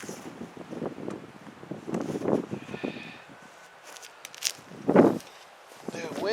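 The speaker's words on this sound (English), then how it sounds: "the wind is brutal." Cold, strong wind gusts outdoors on a homestead during privacy-fence work, buffeting the microphone with uneven rumbling bursts while voices and footsteps come and go underneath.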